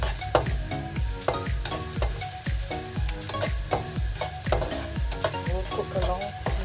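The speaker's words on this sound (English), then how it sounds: "I'm just sauteing it a little." Mutton with its fat rendering sautés in oil in a pan for shepherd's pie, giving a steady sizzle broken by regular clinking stirs of a utensil against the pan, close and clear.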